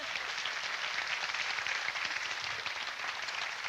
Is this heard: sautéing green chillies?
no